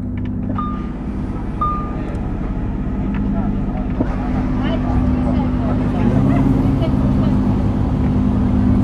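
A Lamborghini Huracán Performante engine rumbles steadily at close range outside the Hôtel de Paris, its deep drone building slightly in loudness, with a voice talking over it.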